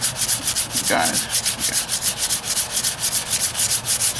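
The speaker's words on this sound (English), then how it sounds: "So I just want to do a little bit of sanding here," Steady back-and-forth hand sanding of Bondo body filler on the driver's side wheel arch of a 1998 Ford Ranger with 150 to 500 grit paper, a close, even rhythmic rasp of repeated strokes; a voice speaks briefly.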